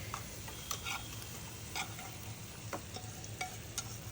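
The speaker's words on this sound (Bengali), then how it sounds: "মাছটাকে মশলার সাথে ভালো করে মিক্স করে নেব।" Fried fish pieces stirred into a spice masala in a pan, a soft low sizzle broken by sharp clicks and taps of a spatula against the pan at an irregular pace.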